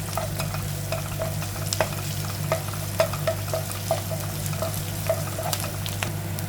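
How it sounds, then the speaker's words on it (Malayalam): Sliced onions sauté in a pan while being stirred, a constant sizzle with repeated light taps and scrapes of a spoon against the pan, close up and alone. "സവാള നന്നായിട്ട് വഴണ്ട് വരുന്നത് വരെ നന്നായിട്ട് ഗോൾഡൻ കളറൊക്കെ ആകുന്നിടം വരെ നമുക്ക് വഴറ്റിയെടുക്കാം."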